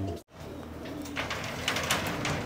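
Young pigeons of the South Warrior breed coo softly in an aviary amid a steady background of rustling and ambient noise, with a brief dropout near the start.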